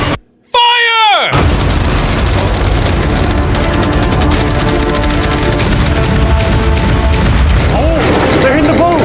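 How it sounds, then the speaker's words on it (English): Massed cannons, machine guns, a giant mine and fireworks fire together in a huge final barrage: after a brief quiet gap, a dense, continuous roar of booms, rapid bursts and crackling pops fills the scene, loud and sustained with faint voices underneath. "all these machine guns, we have 100 cannons, a giant mine, the equivalent of all 15 from earlier, all of the fireworks, arrows, and catapults"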